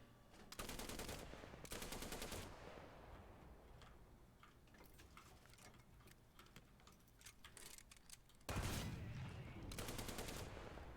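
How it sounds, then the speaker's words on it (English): Rapid bursts of machine-gun fire from a tank in a naval combat video game, with two long rattling volleys at the start, scattered shots and clicks in between, and another sustained burst near the end. "Even when firing the machine gun sideways, it just rocks the entire"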